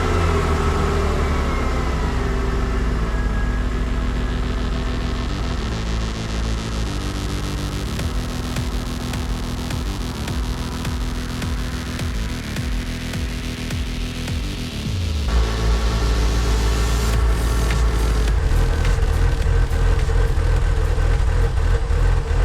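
An old Porsche Boxster engine runs at idle for a long stretch, a steady close drone with the pitch shifting and hunting unevenly, then jumping to a higher, busier note near the end.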